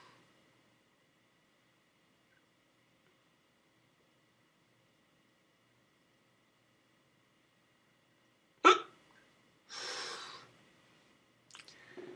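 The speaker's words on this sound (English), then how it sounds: "It's the funny thing about alcohol. It gives you the hiccups." A few isolated hiccups from a person who has been drinking alcohol, sounding out one at a time at irregular intervals after long quiet, fairly close and moderately loud.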